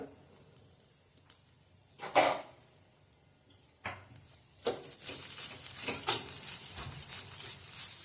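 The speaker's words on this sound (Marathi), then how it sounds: "कडे गरम झाले आता खोबरं आपण भाजून घेऊया" Grated coconut roasts in oil in a hot kadhai over a low flame for a Malvani chicken rassa, with a quiet sizzle, occasional scrapes and clatters of a spoon, and stirring that grows busier toward the end.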